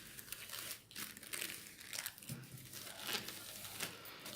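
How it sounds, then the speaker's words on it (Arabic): Fabric being folded in half lengthwise while sewing a buttoned peignoir, giving a soft continuous crinkling and rustling close by, with no talk. "نطوي القطعه ديالي على 2"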